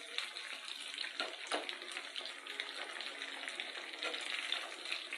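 Chicken kebabs fry in hot oil, making a soft, continuous, hissing sizzle at a low level. A few faint clicks and bumps sound over it, with no voices.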